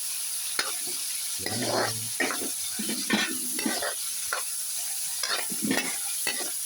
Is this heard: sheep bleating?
no